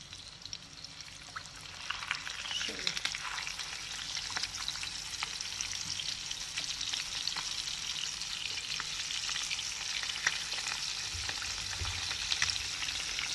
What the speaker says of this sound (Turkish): Şöyle kızartıyoruz.